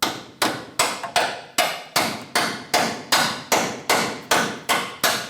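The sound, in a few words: hammer tapping bolt into truck track bar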